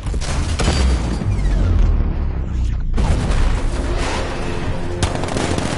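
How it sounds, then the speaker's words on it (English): In Batman: Arkham Knight, the Batmobile cannon fires in a dense, continuous barrage of booming shots and blasts, loud and close, with no voices over it. "Millimeter cannon operational."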